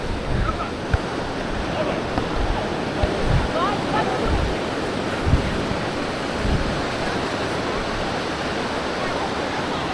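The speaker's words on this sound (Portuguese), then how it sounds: "O movimento das ondas." Surf at Praia Brava beach in Florianópolis rolls in as a continuous loud roar, with soft thumps from waves breaking at intervals, and wind buffeting the microphone throughout.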